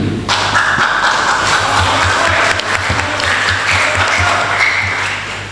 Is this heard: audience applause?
yes